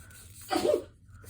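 A puppy gives a single short, breathy sneeze close by, a quick burst against quiet room tone.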